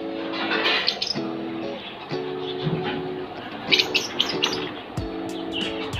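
Pet birds chirp and tweet in steady, overlapping bursts over the whole stretch, with brief higher calls breaking through on a hot summer day.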